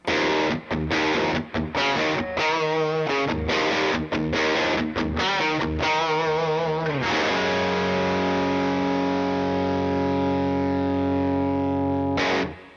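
Distorted electric guitar on the bridge pickup through a Deluxe Reverb amp on 8, with a bright, biting tone, plays choppy chords in short stabs, then rings out on a long sustained chord.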